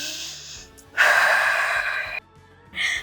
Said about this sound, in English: Take 1 deep breath here.